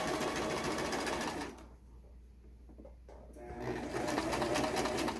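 A sewing machine stitches fabric for a face mask with elastic in a rapid, close mechanical whirr that stops for about a second and a half, then starts again.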